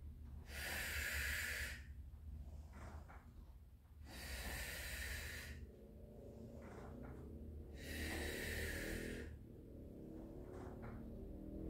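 Three loud, hissing breaths spaced about four seconds apart during a reformer Pilates workout, each a long airy exhale close to the mic over a low steady hum of gym background.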